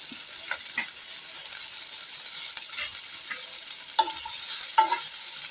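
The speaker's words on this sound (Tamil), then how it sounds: "கட் பண்ண பூண்டை போட்டுடலாம்." Chopped garlic frying in a pan gives a constant soft hiss, broken by a few light scrapes and clinks of a spoon stirring, close but moderate in level, with no talking.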